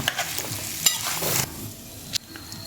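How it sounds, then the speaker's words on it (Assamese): Jackfruit pieces are stirred in hot oil for pickle, with a continuous close sizzle broken by scraping stirs and a couple of sharp clinks against the pan. "এইদৰে গৰম তেলত দি অকণমান লৰাই লোৱাৰ উদ্দেশ্য এইটোৱে"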